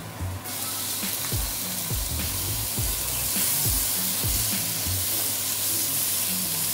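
Chicken pieces frying in a pan for Korean jajangmyeon, a loud, steady hiss of sizzling oil with repeated low thuds and scrapes as the pieces are moved, close up and without talk.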